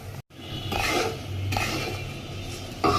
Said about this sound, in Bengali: চিংড়ি মাছগুলো দিয়ে নাড়াচাড়া করে নিচ্ছি।